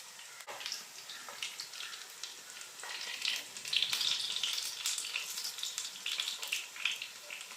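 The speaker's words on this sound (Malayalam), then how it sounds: "ഉള്ളൊക്കെ നന്നായിട്ട് വെന്ത് വരണമെങ്കിൽ ലോ ഫ്ലെയിമിലിട്ട് വേണം നമ്മളിത് മുരിച്ചെടുക്കാനായിട്ട്" Chicken nuggets frying in a pan on low flame, a steady crackling sizzle of oil with brief stirring scrapes, close and continuous, no voices.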